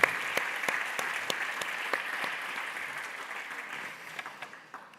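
Audience clapping at a digital craftsmanship event, a moderately dense round with distinct individual claps standing out, gradually thinning and fading toward the end.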